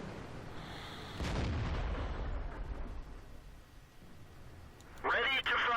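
A Japanese tier 7 O-Ni heavy tank fires its cannon in World of Tanks. One heavy boom is followed by a long rumbling tail, and a voice speaks briefly at the end.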